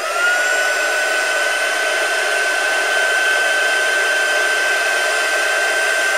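A fan or blower whirs steadily up close with a constant high whine and airy hiss, drying embossing on paper, with no talk over the continuous drone.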